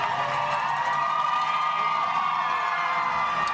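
Roadside spectators at the Chicago Marathon cheering and shouting for the passing runners, a steady, bright wash of crowd noise with scattered whoops, with no break throughout.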